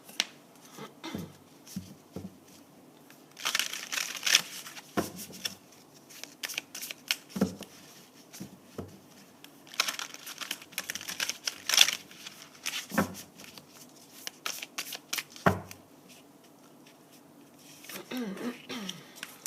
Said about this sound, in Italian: Poi ci mettiamo le carte delle memorie genealogiche della Maria Vittoria